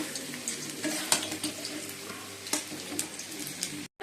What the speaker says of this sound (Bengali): তেল কষানো হয়ে গেছে, অল্প করে জল দিয়ে দেবো